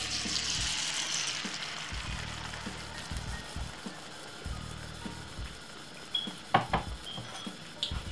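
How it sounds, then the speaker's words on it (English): Beaten egg and vegetables frying for a Jamaican-style cheese omelette, a steady soft sizzle across the whole stretch with a few light pan and utensil clinks near the end. "Fry that for roughly about 3 to 4 minutes"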